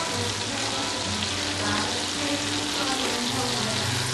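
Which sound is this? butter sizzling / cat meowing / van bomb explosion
butter sizzling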